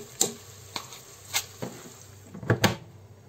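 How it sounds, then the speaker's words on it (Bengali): Onions fry in a multicooker while pulao is being made, a soft sizzle broken by several sharp clinks and scrapes of a utensil against the pot. "পেঁয়াজ ভাজি হচ্ছে"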